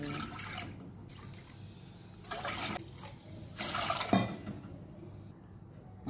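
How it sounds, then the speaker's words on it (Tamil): Water pours into a pot for millet flour puttu in a home kitchen, three soft splashing bursts of running liquid that rise and fade, fairly quiet with no talk. "நம்ம அதுக்கு 4 டம்ளர் தண்ணி வைக்கணும்"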